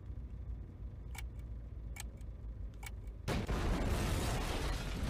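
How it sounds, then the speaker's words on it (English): Bomb in the adventure game Syberia ticking with sparse, regular clicks over a low rumble, then a sudden loud burst of noise takes over; no voices. "A bomb!"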